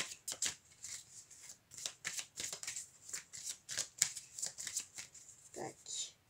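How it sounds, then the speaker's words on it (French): Tarot cards shuffled by hand, a quick run of crisp, close riffling and slapping bursts in a steady rhythm, with a brief soft murmur of voice near the end. "Je vais mélanger mes cartes un petit peu."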